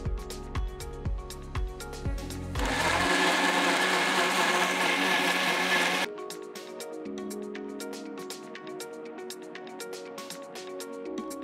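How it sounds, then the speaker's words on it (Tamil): A blender whirs loudly for about three and a half seconds, grinding mango with saffron milk until smooth. Tonal background music plays before and after the blending. "இப்போ இந்த குங்குமப்பூ சேர்த்த பாலை மாம்பழத்தோட சேர்த்து நல்லா ஸ்மூத்தாக அரைச்சி எடுத்துக்கோங்க."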